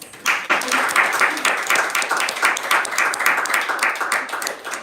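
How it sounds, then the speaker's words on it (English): An audience gathered for a spiritual talk gives a round of applause, an enthusiastic burst of many hands clapping in uneven, pulsing waves that holds for several seconds before fading slightly. "So let's give Rasanath a very big round of applause."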